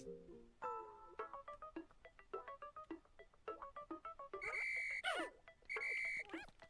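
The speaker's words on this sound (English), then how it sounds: "Now I'll use B to call them back with my whistle." Bright, quick electronic chirps and tonal blips from the Pikmin 4 whistle that calls the creatures back come in a rapid, uneven series, then two longer sustained whistle tones with warbling sweeps, fairly clear with no voices.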